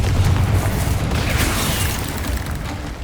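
A Confringo spell explodes in Hogwarts Legacy as a loud, dense boom that rumbles on for a few seconds and slowly fades, with no voices over it.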